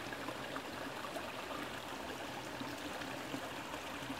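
A small waterfall spills into a clean mountain valley stream, making a soft, even, continuous rush of flowing water with no voices over it.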